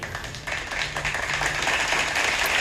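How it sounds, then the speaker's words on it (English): One person claps a quick series of hand claps close to a laptop microphone, over a steady hiss of room noise. "Let me clap it up for you"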